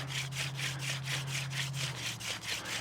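Wood is ground against wood to make hot powder for a friction fire, a steady rhythmic scraping of about a dozen even back-and-forth strokes, close and moderately loud over a low constant hum.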